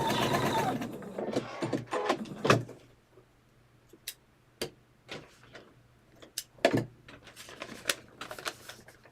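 A sewing machine back-stitching a quilt block runs in a short close burst, followed by scattered sharp clicks and taps of handling.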